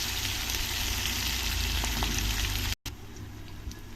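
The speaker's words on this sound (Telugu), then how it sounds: "పచ్చిమిర్చి ముక్కల్ని కొద్దిగా వేయించుకొని" Green chilli pieces sizzle and fry in hot oil in a pan while making a brinjal dish, a steady close crackling hiss that cuts off briefly near the end and then comes back fainter.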